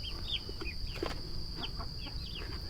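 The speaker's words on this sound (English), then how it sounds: "I love chickens." Backyard chickens, including a hen that rules the flock, make short chirpy clucks and calls at a steady moderate level over a constant high electrical whine. No one speaks.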